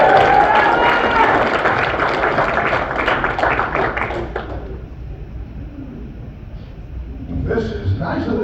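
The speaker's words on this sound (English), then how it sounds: "Put your hands together for John Butera" A comedy-show audience at a casino resort applauds as comedian John Butera takes the stage, a dense burst of clapping that thins out after a few seconds, followed by quieter room sound and a brief rise near the end.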